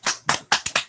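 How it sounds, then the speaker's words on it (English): A few people clap their hands in a small, sparse round of applause for a lecturer, five or so separate claps heard close and dry with no voices over them. "we could give Dr. Weisman a round of applause"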